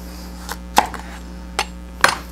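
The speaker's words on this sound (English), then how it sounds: "we want to cut little thin slivers around the seeds" A knife cuts thin slivers of fruit around the seeds on a board, giving four sparse, soft taps and clicks against a faint steady hum, with no talking.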